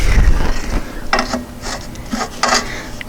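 Metal-on-metal scraping, rasping and ratcheting from prying apart the original ball joint on a 1993 VW Cabriolet axle during transmission and clutch work, in several short close bursts with no talk.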